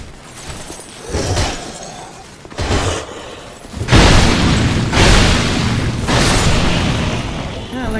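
Heavy weapon strikes in the video game Dark Souls 2 land as several loud booming thuds and crashing impacts, spaced irregularly over a dense game soundscape.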